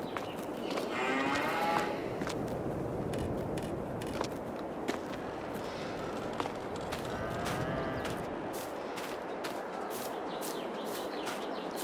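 Cows lowing and mooing in the video game Farming Simulator 22, over a steady outdoor background, with a few clicks and birdlike chirps scattered throughout.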